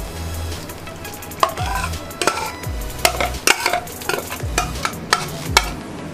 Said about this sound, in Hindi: अब हम इसको छन्नी में डाल देंगे।